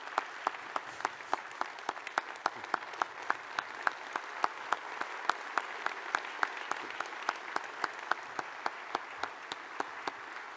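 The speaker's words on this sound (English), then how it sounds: "Let's have a round of applause for our 21st director." Applause for the 21st director at a National Guard conference gathering, a broad wash of audience clapping with one nearby pair of hands slapping out sharp, regular beats that stand out above the rest for about ten seconds.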